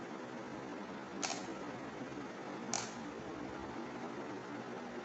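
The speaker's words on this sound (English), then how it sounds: "Press shutter button," A Canon EOS 60D shutter taking a one-second exposure, two crisp mechanical clicks about a second and a half apart against a steady hiss of background noise.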